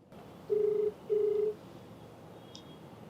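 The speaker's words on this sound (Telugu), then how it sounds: "మరి నెంబర్ ఇచ్చారు, కాల్ చేస్తానండి." A telephone call being dialed and ringing, heard as two steady ringback tones close together over a faint hiss, followed by a brief high blip.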